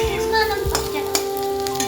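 Begunis, battered eggplant fritters, fry a second time in hot oil with a loud, steady sizzle, plus a couple of sharp clicks and stirring taps close by and no talking.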